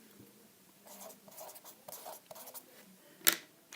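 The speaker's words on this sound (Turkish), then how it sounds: "Tekrar sayılarımı buraya yazayım." Pen writing numbers by hand on paper during a maths lesson, heard as quiet, quick scratching strokes in short bursts, ending with one sharper tap.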